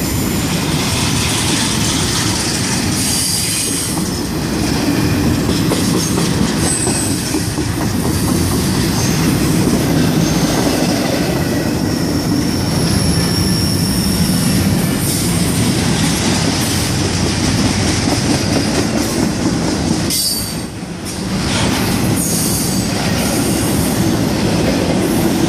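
A freight train rolls by close and loud for the full stretch, a dense steady rumble with rhythmic clickety-clack from the wheels and high metallic wheel squeal layered on top, no voices.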